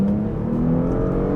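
A Porsche Panamera 4 engine revs up in Sport Plus mode, a steady, loud, sustained drone with a low harmonic tone held across the short stretch, no voices.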